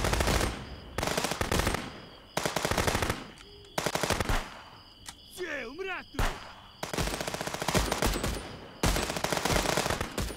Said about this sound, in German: Oh, da hat einer das dicke Gewehr dabei, so wie es aussieht.